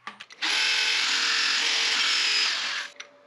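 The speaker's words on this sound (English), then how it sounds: "I'm only sanding it up to 150 grit" A power sander works wood up to 150 grit, a steady loud whir running for about two and a half seconds after a couple of short starts, then cutting off.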